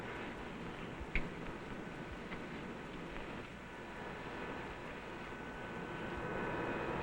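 A Lockheed L-1049 Super Constellation piston-engine airliner of 1953 Eastern vintage has an engine being started, heard as a faint, steady aircraft rumble that swells slightly toward the end.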